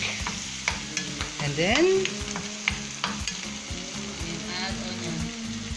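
Garlic sautéing in a pan for corned chicken sisig, a close sizzle with repeated scraping strokes of stirring and a brief spoon clatter, while a person speaks a couple of words over it.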